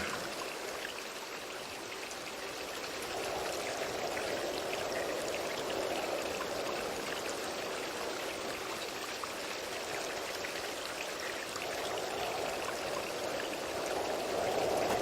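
Flowing stream of water in a fantasy adventure game, a continuous soft rushing and trickling that swells slightly midway, steady and moderately faint with no voices.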